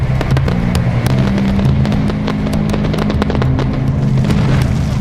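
Fireworks exploding in a loud, continuous barrage of sharp cracks and booms over a dense rumbling roar, close and overwhelming, with no voices.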